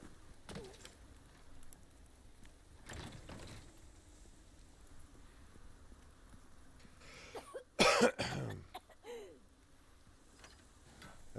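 A few scattered coughs in the video game Resident Evil 4 Remake, dry and muffled, over a quiet mechanical hum, with a louder burst of coughing and throat clearing midway through.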